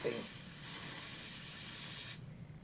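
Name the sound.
spraying product onto a closure wig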